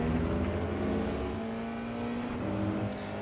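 An F4 race car accelerates out of a hairpin at Zolder in iRacing, its engine a steady, close, droning buzz that climbs in pitch as it pulls through the gears.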